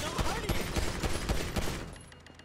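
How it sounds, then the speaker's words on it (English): Rapid burst of gunfire in GTA 5 Online, a quick run of about ten close, loud shots in a fast irregular rhythm, fading out over the last half second. "Fire some gunshots in there."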